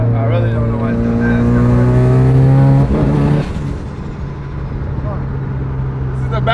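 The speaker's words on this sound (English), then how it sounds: "Just trying to blow the tires off." A car engine revs hard in a shop while the driver tries to spin the tires, a loud droning roar that climbs and then drops off halfway, with someone talking over it.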